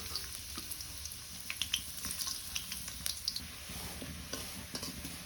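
Onions frying in a pan in a home kitchen, a continuous sizzle with scattered scraping and stirring clicks, close and moderately loud.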